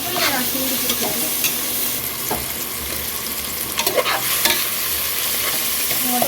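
Biryani ingredients fry loudly in a pan, a dense continuous sizzle close up, with repeated scraping and clattering strokes as they are stirred throughout.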